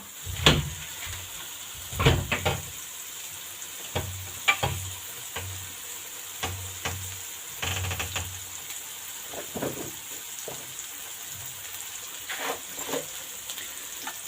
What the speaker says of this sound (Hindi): इसकी हम अच्छे से बुनाई करेंगे ताकि ये अच्छे से जो है वो कुक हो जाए, फ्राई हो जाए।